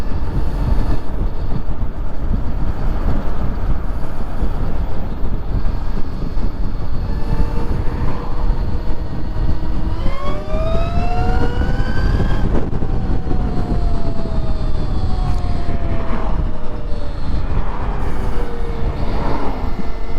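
An electric Tesla-swapped Honda Grom motorcycle rides at around 30 mph, wind roaring loudly over the mic and a rising then falling electric motor whine sweeping through, constant and close.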